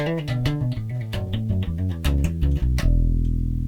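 A '73 Precision Bass on its bridge pickup alone with tone fully down plays a short run of low notes with a rounded, muted tone, ending on a sustained note, alone with no voices.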